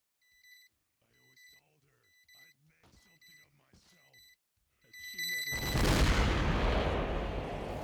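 A heavy burst of pipe bomb explosions hits the Patriarch in Killing Floor, erupting loudly into sustained roaring noise after several seconds of quieter beeping and scattered game sounds.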